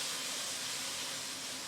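Beef for Mongolian beef browning on a sheet pan, a loud, steady broadband sizzle and hiss held close and constant throughout, with no talking.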